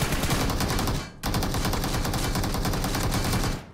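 Sustained automatic gunfire in PUBG Mobile, a solo-versus-squad match, rattling loud and continuous with a brief pause near the one-second mark before the rapid bursts resume.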